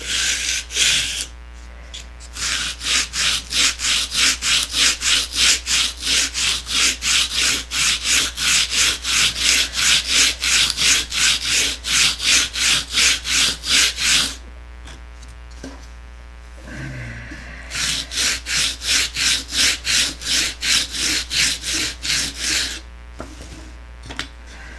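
A stabilizer being sanded flat by hand with 180 grit sandpaper, loud close rhythmic back-and-forth rasping strokes in two long runs separated by a brief pause, no talking.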